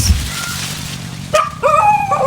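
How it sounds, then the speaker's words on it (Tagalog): A dog barks near a cornfield during planting, a single sharp bark followed by a couple of higher yelping barks, close and fairly loud over outdoor background noise. "Ayan, natahulan pa ako ng aso."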